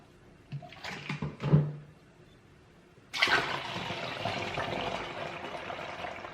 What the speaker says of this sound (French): Je vais mettre 1 verre de vinaigre blanc.